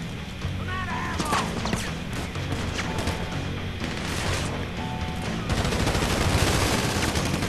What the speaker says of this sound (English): Oh, being shot at.